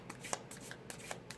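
Tarot cards from the Island Wellness deck are shuffled by hand, a quick run of soft riffling flutters and light snaps, close and quiet, with no talking.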